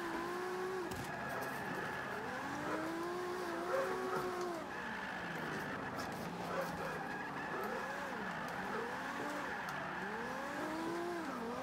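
A Toyota Supra drifting in Forza 5, driven with a Thrustmaster wheel: repeated swooping tire squeals rise and fall over a constant engine drone, with near-continuous skidding throughout.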